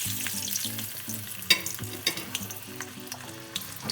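Zucchini slices crackle and sizzle steadily in hot oil in a pan, with a few sharper pops and clinks of slices being dropped in, close and continuous with no talking.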